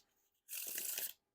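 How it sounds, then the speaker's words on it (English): Black Lions Seconds playing cards being riffle or bridge shuffled, a single brisk burst of papery flutter lasting under a second, close and fairly quiet, with no talking. "definitely no issues with the Riffle Shuffles or Bridge Shuffles."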